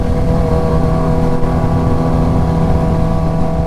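Kawasaki Ninja H2 supercharged motorcycle held at higher RPM at a meet-up, a loud, close, steady engine drone with a strong buzzing hum and no pauses across nearly four seconds.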